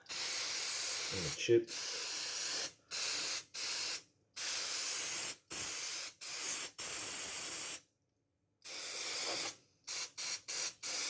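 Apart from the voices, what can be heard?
spray can spraying IBM Thinkcentre computer slots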